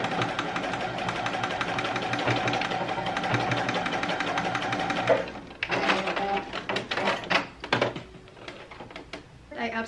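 Sewing machine stitching along a skirt during an at-home alteration, a steady close mechanical whir for about five seconds, then stopping and starting in short uneven bursts.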